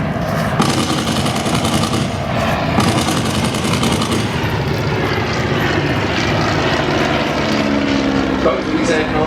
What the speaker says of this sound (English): these replicas are powered by World War II era Warner Scarab engines